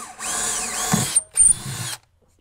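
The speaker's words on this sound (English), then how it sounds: "I'm just going to go ahead and drill those out." A power drill whirs loudly in two close bursts while drilling holes during a 2005 Supra boat ballast system build, briefly pausing between them, then stops into silence.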